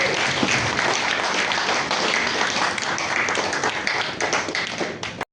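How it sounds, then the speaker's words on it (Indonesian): Dense, loud applause fills an installation ceremony hall, many hands clapping steadily throughout before cutting off abruptly at the end. "kami sambut tepuk tangan yang paling meriah"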